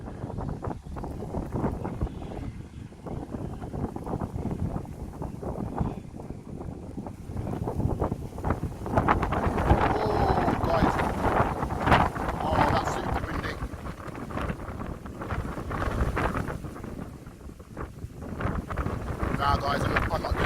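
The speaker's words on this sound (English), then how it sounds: "It's super windy though" Strong gusting wind buffets the microphone in a steady, roaring rush outdoors while an Absima AB3.4 RC boat is out on the water, with someone talking intermittently over the noise.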